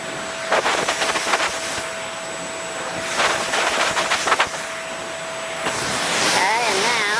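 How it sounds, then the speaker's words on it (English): Compressed air blasting charcoal filters from a Blueair air purifier, loud hissing bursts in several separate blasts with a steady background whine and pauses between. "let's blast these charcoal filters out too"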